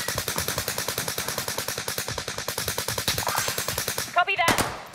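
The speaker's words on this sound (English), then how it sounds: "that fucking sniper is shooting me again" Rapid rhythmic automatic gunfire in Call of Duty: Modern Warfare, a steady loud burst of shots lasting several seconds before a brief clatter of other game effects at the end.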